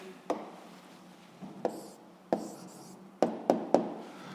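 Pen or marker writing out the answer to a physics problem, heard as a series of sharp taps and short scratchy strokes at uneven intervals against a quiet background.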